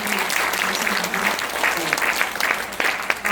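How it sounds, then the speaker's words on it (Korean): An audience at a missionary conference panel applauds warmly, a dense, steady clapping that carries on for several seconds, with a voice briefly speaking over it. "박수"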